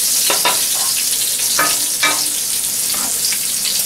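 Browned chicken frying in a pan, a steady close sizzle broken by several distinct stirring scrapes, with no voices.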